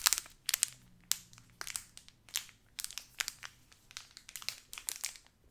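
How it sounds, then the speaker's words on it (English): A Magic: The Gathering booster pack wrapper is torn open and handled up close, giving loud, crisp crinkles and crunches in irregular bursts with short pauses between them and no talking. "I'm gonna open a pack, but I'm not gonna read the cards."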